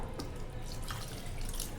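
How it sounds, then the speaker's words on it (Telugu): Water is poured into a pan of tomato and egg curry cooking with green chillies, giving a steady rushing, splashing pour that is fairly faint and continuous with no talk. "కొంచెం వాటర్ అయితే యాడ్ చేద్దామండి"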